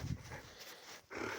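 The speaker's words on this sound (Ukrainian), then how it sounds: "Молодець, яка собака розумна." A dog close by makes soft panting and whining noises in a brief, quiet moment.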